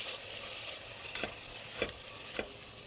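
Chilies, ginger and garlic fry in a pressure cooker, a soft steady sizzle broken by a few sharp scrapes and taps of a spoon stirring, with no talking.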